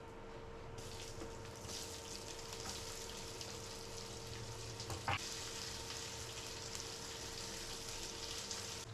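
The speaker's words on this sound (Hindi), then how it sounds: "प्याज को 2 मिनट फ्राई कर लेना" Onions frying in oil in a pan for a veg biryani, a steady close sizzle with a faint background hum and one brief clink partway through, no voices.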